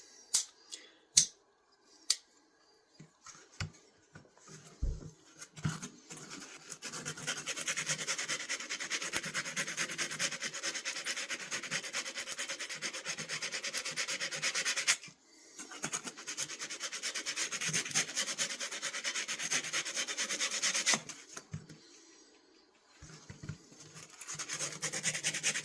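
A knife blade being hand-sanded with 320 grit sandpaper during a restoration, long steady rubbing strokes with brief pauses, a few light taps at the start, fairly quiet and close.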